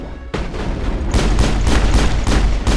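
Gunfire in the video game Mass Effect: a sharp opening blast followed by a dense, sustained run of rapid shots with rhythmic bursts, loud and close throughout.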